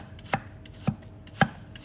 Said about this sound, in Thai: จากนั้นให้เรามาหั่น หั่นพอดีคำค่ะ